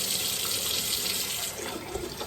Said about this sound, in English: To that, I'm adding cold water, and I want to fill it to about 1 inch over the egg.